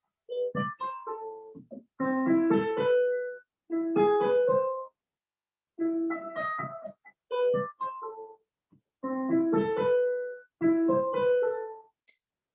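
A piano's right-hand part plays a melodic line of single notes and short chords in phrases separated by brief pauses, clear and fairly close with no talking.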